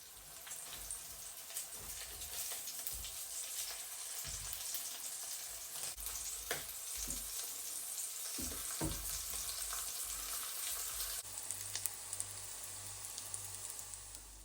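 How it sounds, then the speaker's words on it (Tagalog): Pancit noodles with sausage and pork fry in a pan, a soft steady sizzle with occasional stirring clatters and scrapes, fairly quiet and close. "So nagluluto na ako guys ng aking pansit."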